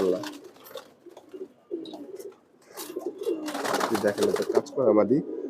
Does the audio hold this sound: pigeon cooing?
yes